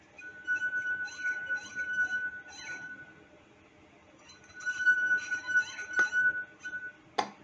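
A drinking glass partly filled with water sings with a steady sustained ring, rubbed in two bursts separated by a quieter pause, ending with a short sharp clink.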